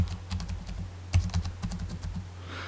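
Rapid keyboard typing as a mobile number is entered, a run of close, crisp key clicks in an uneven rhythm with one heavier keystroke partway through, alone without speech.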